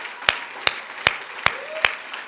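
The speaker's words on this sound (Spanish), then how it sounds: "démosle ese fuerte aplauso" A church congregation at a Spanish-language sermon claps in unison, five sharp, evenly spaced claps roughly every 0.4 seconds. The claps stand out clearly over a quiet room.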